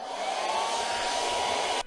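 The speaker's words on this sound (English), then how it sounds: "I'm gonna hit with the dryer again." A hair dryer blows continuously at close range to dry acrylic paint, a steady whooshing motor roar with no voices.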